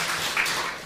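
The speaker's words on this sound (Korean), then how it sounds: "박수 한번 보내드리세요" A congregation applauds at a Sunday worship service: a brief, dense wash of clapping, steady and fairly loud throughout.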